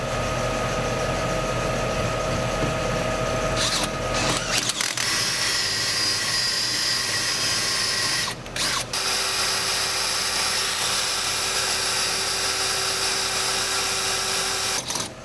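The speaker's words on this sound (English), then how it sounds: "we're going to try to drill them out." A power drill grinds steadily into stripped bolts on a Toyota's rear gas tank bracket, loud and close, with short pauses and restarts as it chews through.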